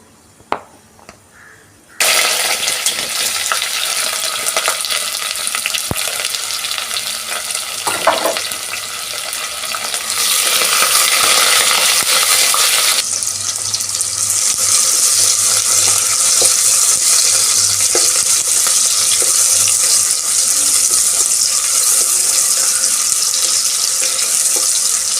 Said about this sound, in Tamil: கொஞ்சம் ரோஸ்ட் ஆன உடனே வெங்காயம் கட் பண்ணி வச்சுருக்கோமே அந்த வெங்காயத்தை இதில் போட்டுக்கணும்.